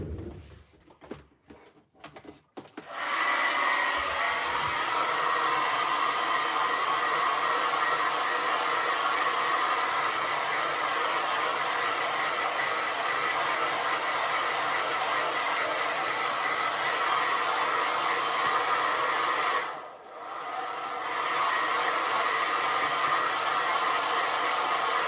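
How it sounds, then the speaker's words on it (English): A hair dryer roars steadily at close range for over twenty seconds after a few clicks and handling sounds, briefly cutting out near the end before resuming. "I'm going to just go to the hairdryer for a minute and I'll be right back."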